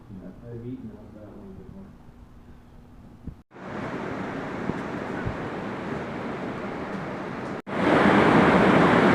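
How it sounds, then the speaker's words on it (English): Heavy rain pours down hard in a steady, dense roar that swells louder partway through, with a brief break between bursts; a voice talks faintly near the start. "I don't know if you can hear the pouring rain. It's raining really hard."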